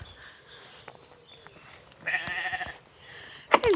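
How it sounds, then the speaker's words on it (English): Sheep bleat on a Scotland farm in several short calls, one louder quavering bleat mid-way and a sharp close cry near the end, over quiet background noise with no talking. "So here are our lovely sheep."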